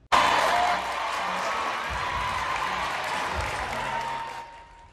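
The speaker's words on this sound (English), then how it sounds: "Students cheering Blake Rice as the crown was placed on his head" Students at South Mecklenburg High School's gym in Charlotte erupt into loud applause and whoops as a homecoming king is crowned, bursting in suddenly, then settling into sustained clapping and cheering that fades slightly at the end.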